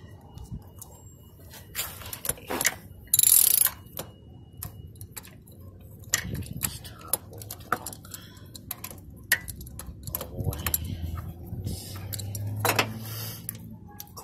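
A ratchet with a 1/2 inch socket works the thermostat bolts on a Chevy Aveo, giving faint, irregular clicking bursts in a quiet garage.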